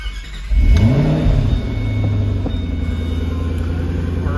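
A 2005 Ford GT cold start: the starter catches and the engine fires with a loud rising rev that sweeps up and then settles into a steady, rumbling high idle, close by with no talk.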